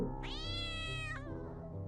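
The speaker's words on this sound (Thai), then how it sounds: "เราไล่แมวนะแมวกระโดดแล้วก็วิ่ง" A cat in the video game Children of Silentown gives one drawn-out, clear meow that rises and then falls, heard alone over a soft background ambience.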